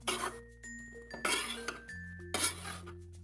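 A spoon mixes flour laddoo ingredients with raisins in a pan, making three short bursts of metallic scraping and clinking close by. Faint tonal background sounds run between the bursts.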